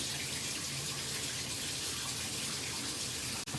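Water runs steadily from a tap into a sink during washing, a continuous close rush and splash that cuts off briefly near the end, with no voices.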